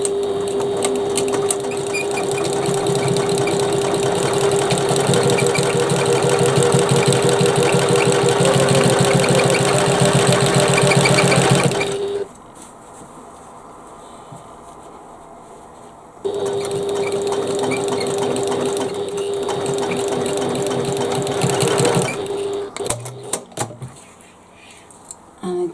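A sewing machine stitches the corner of a bag in two loud, steady whirring runs, separated by a brief quieter pause, with light handling noises near the end.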